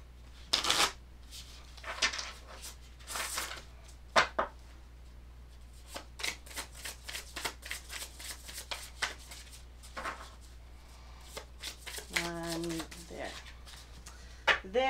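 Oracle cards are shuffled by hand in repeated quick riffling bursts, crisp and close, mixed with a soft voice talking between the bursts.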